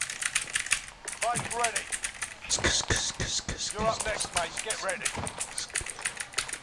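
Rapid computer mouse clicking during Warzone gameplay, dense and irregular bursts of close clicks running throughout, with a voice speaking over them.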